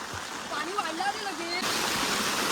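Rain-swollen stream water rushing through a hillside channel, a steady broadband roar with faint watery gurgles, and a voice talking over it in the first part.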